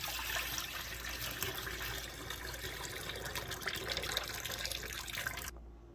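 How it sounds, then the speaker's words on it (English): Rinse water is poured out of a container while washing Chinese sausage (lap cheong) ingredients, a continuous close splashing flow lasting several seconds before cutting off abruptly. "Get all the water out as much as possible."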